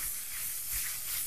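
Blanched butter and shiitake mushrooms dry frying in a pan, giving a soft, steady hiss and gentle sizzle, close and quiet, with no talking.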